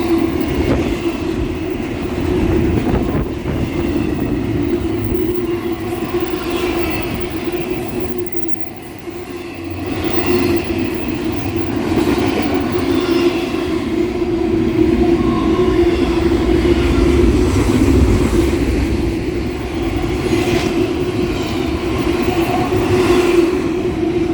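A fast BNSF train passes close by, its loud, sustained rail roar and steady humming drone dipping briefly partway through and then building again, with wind noise and no talk.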